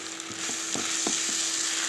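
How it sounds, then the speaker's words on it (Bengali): Rice sizzling in hot oil with whole spices in a pan, a continuous close frying hiss punctuated by several soft knocks and scrapes of stirring. "চাল ভালো করে ভেজে নিতে হবে।"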